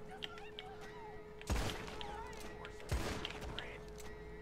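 Revolver gunfire in the video game Red Dead Online, two loud shots about a second and a half apart over a low game ambience and faint background sounds.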